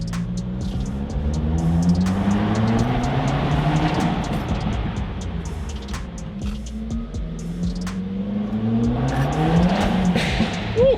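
A 2014 Honda Civic Si coupe revving inside a parking garage, the engine note rising and falling in repeated sweeps with tire chirps and echoing reverberation, loud and close with no talking.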